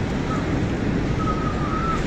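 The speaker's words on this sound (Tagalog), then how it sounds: "Tila nagsasayaw ang mga puno dahil sa lakas ng hangin." Strong typhoon wind roars steadily across the town of Gonzaga, a dense, constant rushing noise that buffets the microphone, with a faint tonal whistle drifting through.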